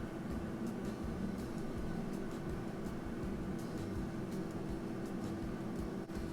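A Philips HD9255 airfryer running at 180 degrees, giving a steady, even fan whir with a low mechanical hum, constant in level throughout and heard close up with no talking.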